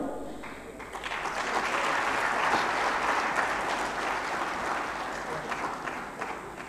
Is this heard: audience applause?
yes